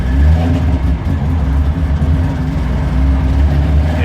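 A car engine revs hard and accelerates in first gear after pulling away from a traffic light, a loud, steady mechanical roar running through the whole stretch with no voices over it.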